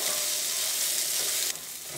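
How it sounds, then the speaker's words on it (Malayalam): Crushed ginger, garlic and green chilies with onion sautéing in hot oil, giving a continuous close sizzle that briefly drops in level partway through, with no voices. "ഇതെല്ലാം കൂടിയിട്ട് നന്നായിട്ടൊന്ന് വഴറ്റിയെടുക്കാം."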